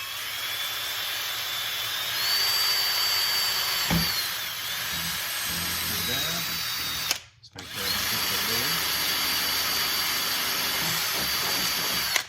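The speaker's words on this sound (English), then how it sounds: "Now we'll go ahead and drill this out, and we'll go right through." A power drill whining steadily as it bores through a panel, likely 1/8-inch plywood, during a car audio trunk build; continuous near buzz with a short pause midway and light talk underneath.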